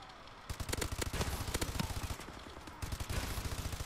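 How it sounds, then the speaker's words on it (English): Another player's rapid automatic gunfire in Call of Duty: Advanced Warfare, close and loud, two fast rattling bursts with a short pause between them, no talking. "Can you not shoot beside me?"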